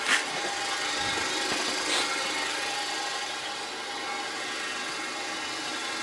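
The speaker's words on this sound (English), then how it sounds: "So this motor, while it is rotating, it is pushing it out." The motor of a plastic recycling extruder rotates and pushes molten plastic out, giving a steady mechanical hum with a few brief clicks and knocks near the start, close and continuous for six seconds without talk.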